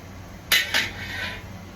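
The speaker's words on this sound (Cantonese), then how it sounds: "跟住抹一隻鑊。" A metal wok handled while being wiped in a home kitchen, two sharp clanks close together followed by a soft scraping clatter.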